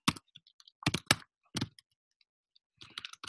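Keys clatter on a computer keyboard as timesheet notes are typed into WorkflowMax, coming in short bursts of close, crisp clicks separated by brief pauses.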